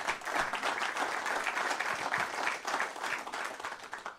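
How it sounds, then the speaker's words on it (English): An audience at a spring community banking forum breaks into warm, sustained applause, dense steady clapping filling the room for several seconds. "I think that longevity deserves a round of applause."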